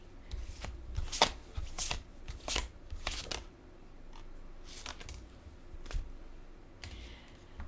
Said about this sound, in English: I shall add on a oracle card here.